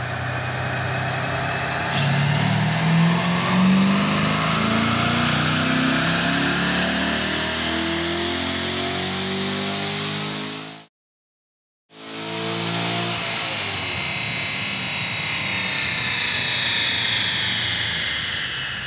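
A car engine on a dynamometer revs steadily higher under load from 2,000 to 7,000 RPM for about ten seconds, cuts out sharply, then roars again at full throttle, loud and close.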